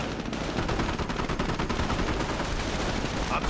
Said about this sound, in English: But artillery fire moves in.